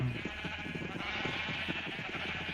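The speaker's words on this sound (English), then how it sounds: "And lots of sheep." Sheep in the Minecraft video game bleat in a dense, overlapping chorus of several animals close by, steady throughout the short stretch.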